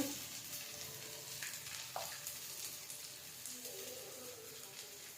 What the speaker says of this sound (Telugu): బాగా నూనెలో వేగనీయాలండి మొత్తం పసుపు